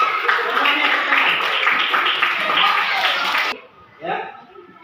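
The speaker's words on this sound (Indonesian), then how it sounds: "Semuanya tepuk tangan." Children in a classroom clap their hands together in a dense, loud burst that stops abruptly, followed by brief chatter and a voice.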